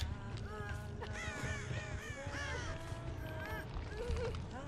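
Crow caws in the game Dead by Daylight, several harsh cries in quick succession over a busy background of game ambience and low rumble.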